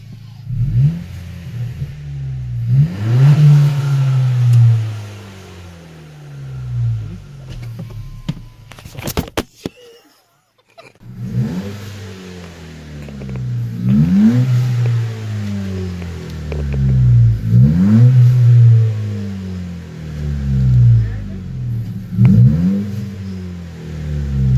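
A 2018 Honda Accord with a muffler delete revs repeatedly, loud throaty rises and falls in the engine note with a brief quiet gap midway, some faint voices in the background.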